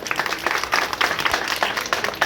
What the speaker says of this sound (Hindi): एक बार जोरदार तालियों से स्वागत करेंगे।